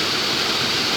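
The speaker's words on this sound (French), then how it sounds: "le déversoir. Entendez le bruit magnifique de l'eau," Water pouring over the weir of the Chappe watermill in the Berry, a steady, dense rushing roar that stays even and close for the whole second, with no voices.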